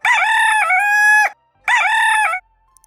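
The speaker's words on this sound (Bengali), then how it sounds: "মোরগের ডাক কুকুরুকু" A rooster crows twice, loud and close: two long, bright cock-a-doodle-doo calls separated by a short silence, with faint clicks after the second.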